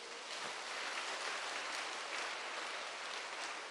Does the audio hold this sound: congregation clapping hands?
yes